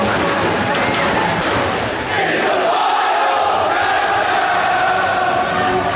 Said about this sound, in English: listen to this crowd here in Manhattan